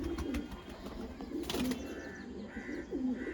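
A pigeon kept by a fancier coos in low, repeated rolling notes close by, with faint chirps and a brief flutter of wings in the background.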